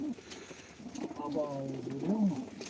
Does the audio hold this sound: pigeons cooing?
yes